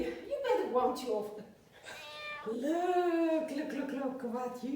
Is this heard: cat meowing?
yes